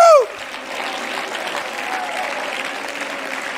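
A church congregation claps steadily through a sermon, continuous even applause following a brief shout at the start, with faint voices mixed in.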